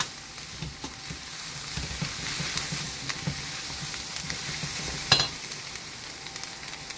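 Sweet Hungarian paprika being stirred into goulash sizzling in a pan, a steady close frying hiss throughout with soft scraping stir sounds and occasional small clinks, no voices.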